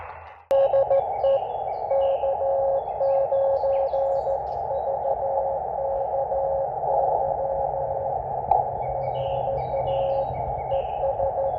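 A steady, continuous single-pitched tone from an antenna tuner on a portable Elecraft KX2 ham radio with a mini-Buddistick antenna holds unbroken for about eleven seconds after a brief click, loud and alone, with faint higher chirps over it.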